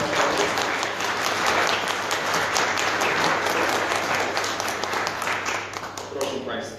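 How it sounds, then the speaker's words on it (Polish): Audience applause at a Polish state award ceremony, where a Bronze Cross of Merit is presented, with dense, steady clapping from a large crowd that holds strong throughout and eases slightly at the end. "Szanowni Państwo, brawa."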